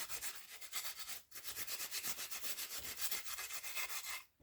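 Hand sanding on a carved wooden fantasy figure, with steady back-and-forth rubbing strokes repeating in an even rhythm. The sound is close and continuous, with a brief pause in the middle and another near the end, and no talking.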